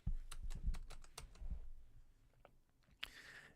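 Fast clicking keystrokes on a computer keyboard, close and quiet, in quick bursts with short pauses, no voices.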